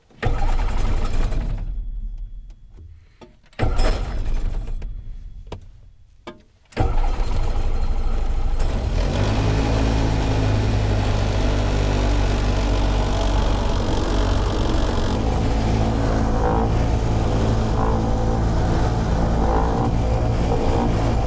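A light aircraft engine cranks with a few sputtering catches, then settles into a loud, steady roar during a pre-takeoff run-up, checking for a possible power loss and RPM drop. The sound is close and sustained.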